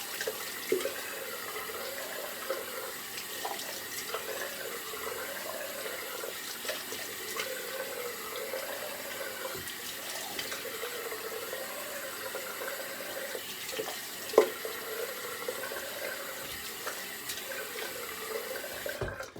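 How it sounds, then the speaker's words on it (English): Cold water runs steadily from a tap for a final rinse after a shave, a quiet continuous splashing that lasts the whole stretch with one brief knock partway through. "It's a nice cold rinse too."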